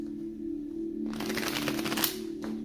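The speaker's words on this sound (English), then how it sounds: "One last shuffle for the twin flames." Tarot cards are shuffled in one short riffling burst lasting about a second, over a steady low background hum, with no talking.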